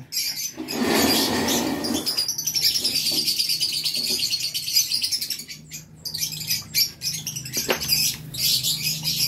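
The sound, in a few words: pigeons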